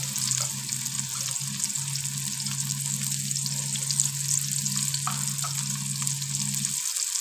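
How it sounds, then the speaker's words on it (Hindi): Onions fry in hot oil for a chicken masala, a steady, continuous sizzle over a low hum that stops just before the end. "ऑयल गर्म हो गया, अब हम इसमें प्याज डाल देते हैं।"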